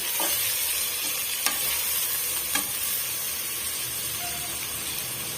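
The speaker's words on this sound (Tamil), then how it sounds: "அரிஞ்சு வச்சிருக்க தக்காளி பழத்தை இதோட சேர்த்துடலாம் சேர்த்துட்டு இதையுமே வந்து நல்லா மசீர வரைக்கும் நம்ம வதக்கி விட்டுக்கலாம்" Chopped tomatoes being sautéed in a pan for egg biryani, giving a steady soft sizzle with occasional scraping stirs and light clinks, close and continuous with no talk.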